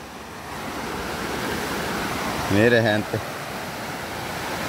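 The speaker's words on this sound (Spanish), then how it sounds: "Miren que yo vengo a enfocarles este hermoso río." A river after a storm makes a steady, broad rushing wash of flowing water, and someone speaks briefly over it.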